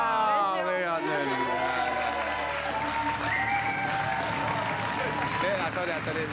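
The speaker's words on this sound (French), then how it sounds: "Qu'est-ce que c'est que ce délire de s'applaudir avant d'ouvrir une boîte maintenant?" A studio audience at a French television game show claps in a dense, continuous burst of applause that holds at a steady level throughout, with some voices mixed in.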